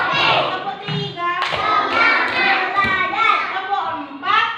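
A group clapping rhythmically in a school spirit-clap routine, counted claps mixed under loud chanting voices of children and an adult that dominate throughout.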